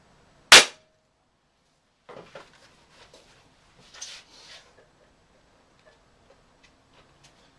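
A single sharp, loud crack of a Beeman P17 air pistol firing at close range, followed after a pause by soft clicks and handling noises that trail off into quiet ticks.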